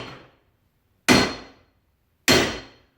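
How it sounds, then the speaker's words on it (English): A hammer strikes an anvil twice, each blow about a second apart with a sharp metallic ring that decays quickly as the hammer rebounds; loud, close and alone, with a fading tail of an earlier strike at the start. "if you watch the hammer on the anvil, watch how it just kind of tends to bounce back up"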